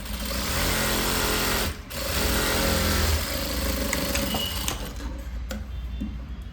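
A sewing machine stitching a blouse runs fast and loud with a dense mechanical whir, pauses briefly, then resumes before slowing and stopping near the end.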